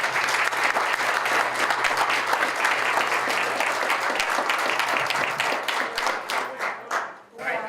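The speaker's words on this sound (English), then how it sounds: "Can we please give the League and Mountaineers for Progress a round of applause for hosting the evening?" An audience at a West Virginia House of Delegates candidate forum in Morgantown gives a steady round of applause, many hands clapping at once before tapering off into a few final claps.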